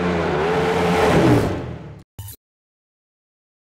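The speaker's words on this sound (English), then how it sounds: "So you can really open the gas and let the beast loose." A KTM 1390 Super Duke R motorcycle engine revs up hard in a loud, rising roar for about two seconds, then cuts off abruptly into silence.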